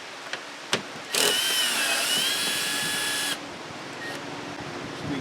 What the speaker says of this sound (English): this Milwaukee is a fantastic little tool to be doing all this with